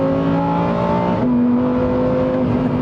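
A Lamborghini Huracán STO engine and exhaust rev hard past 5,000 RPM, a loud, sustained high-pitched wail that shifts pitch partway through, close and without speech.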